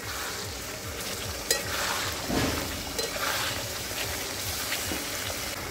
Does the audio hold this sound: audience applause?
no